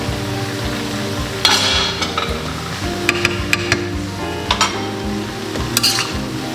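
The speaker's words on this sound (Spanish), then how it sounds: "vamos a echarle ahora las papas" Baked potatoes tumbled into a pan of sautéed green beans with chicken and stirred, with steady sizzling under scraping utensil strokes and a few sharper clinks against the pan, close and continuous.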